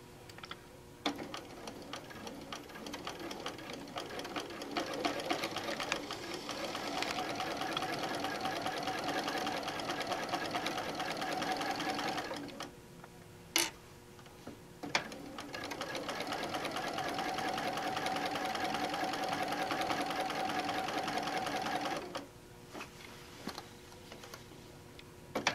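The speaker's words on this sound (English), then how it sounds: "I'm going to stitch this with a quarter inch seam allowance" Sewing machine running a quarter-inch seam on a quilted tote bag, two sustained bursts of steady mechanical stitching separated by a short pause, with faint ticking between runs.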